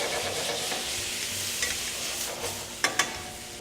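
Wine hitting a hot pan of tomato and olive sauce, a bright continuous sizzle with stirring, and two sharp clanks near the end as the pan is shaken.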